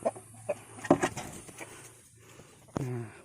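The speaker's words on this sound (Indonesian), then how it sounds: "Ayam" Chicken clucks in short bursts near the listener, with a few sharper calls among faint background chatter and a louder squawk near the end.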